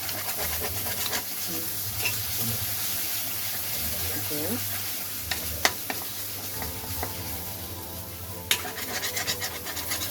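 Ginger-garlic masala with goat liver is sautéed on a low flame, a continuous soft sizzle under repeated scraping stirs of a spatula in the pan, with a few sharper knocks standing out.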